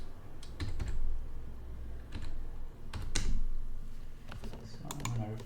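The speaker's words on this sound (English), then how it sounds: "I'm going to type data lookup" Someone types on a computer keyboard, producing short bursts of quick, close keystroke clicks separated by pauses, with soft background noise in between.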